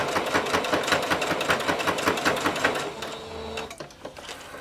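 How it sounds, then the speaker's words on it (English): A sewing machine running a straight stitch to close up stretch bodysuit fabric, a steady fast mechanical chatter that slows and pauses toward the end, close and fairly loud with no talking. "I'm just going to change to a straight stitch, and I'm just going to sew this shut"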